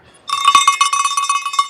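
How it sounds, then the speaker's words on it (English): Cowbell clanked rapidly and loudly at a Beaver Creek Birds of Prey World Cup ski race, a quick rhythmic string of bright metallic strikes starting abruptly and continuing without talk. "I've got my cowbell with me, so we got all sorts of bells."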